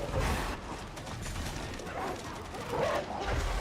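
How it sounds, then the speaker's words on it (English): Dogs bark and yip amid gunfire in the video game Warhammer 40k Darktide, a busy, loud mix of sharp barks and combat noise with voices talking over it. "Forgot about the dogs."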